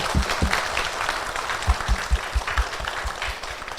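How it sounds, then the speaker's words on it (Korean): An audience claps at a live public recording of a Korean feminist podcast, a dense sustained patter of many hands with a few louder nearby claps, steady and continuous throughout. "이야기 나눠주신 분께 다시 한번 박수 부탁드립니다."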